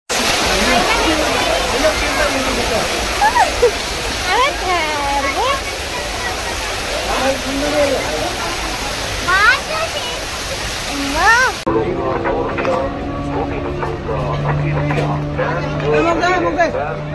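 Cold flowing water at Tank Bund on Hussain Sagar rushes and splashes steadily nearby, with a crowd chattering throughout and voices talking over it.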